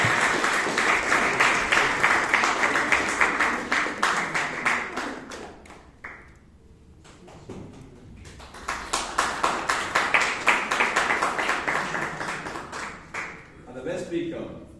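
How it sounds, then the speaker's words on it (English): An audience applauds at a Toastmasters meeting in Bangalore in two vigorous bursts of clapping separated by a brief lull, ending with a quieter patter. "The applause can be given."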